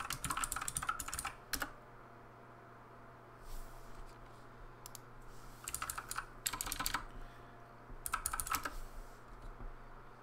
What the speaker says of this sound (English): I'm going to type group, join, and then the name of the character.